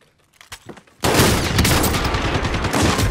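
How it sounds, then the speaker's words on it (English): Shotgun fire in Call of Duty: Warzone, a dense, loud burst of rapid gunfire that erupts after a second of quiet and continues unbroken to the end. "Oh, that shotgun, man."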